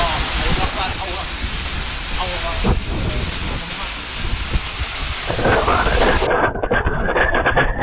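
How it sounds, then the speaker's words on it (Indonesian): Heavy rainstorm with strong wind lashing Kotabumi and Metro, Lampung, where trees fell: a loud, steady roaring hiss of rain and gusts that continues without a break. "Hujan badai dan angin kencang porak-porandakan kota bumi dan metro."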